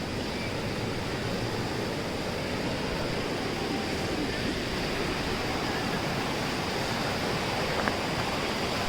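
A waterfall at Saralpara near Bongaigaon, Assam, pours in a steady, dense rush of water that stays even and unbroken throughout, with no voices over it.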